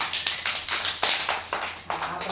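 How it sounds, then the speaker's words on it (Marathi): Children in an anganwadi classroom clap their hands in a rhythmic series of about eight bursts, fairly close and moderately loud, with a faint voice underneath. "टाळ्या वाजवा"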